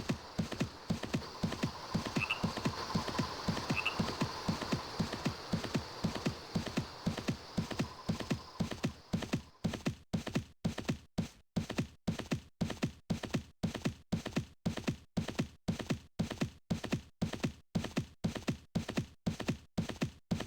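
Horse hooves clip-clopping steadily during riding in the Mabinogi online game, an even, close rhythmic beat running through the whole stretch, with a faint hum early on.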